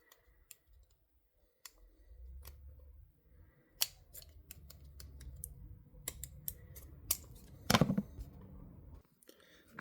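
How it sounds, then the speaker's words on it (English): Scissors make a series of sharp, close snips and clicks cutting the plastic tube of a Philips Sonicare power flosser, irregular cuts over faint handling rustle. "Probably just going to cut it now"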